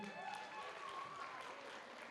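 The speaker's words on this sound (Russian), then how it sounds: "Аплодисменты для настройки." Faint, distant applause rises from a concert audience, a soft continuous patter with a voice faintly audible over it.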